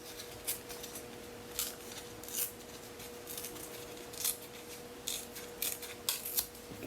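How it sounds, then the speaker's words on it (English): Washi tape being torn by hand in a quiet room for paper journaling, giving a series of short, crisp rips at irregular intervals, fairly close and soft, with no talking. "So I actually may tear a little bit more off."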